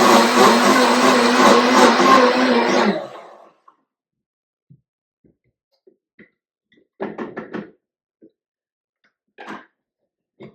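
A countertop blender whirs loudly and steadily for about three seconds as it mixes a Golden Cadillac cocktail with vanilla ice cream, then stops, followed by a few scattered knocks and clinks of glass and jug.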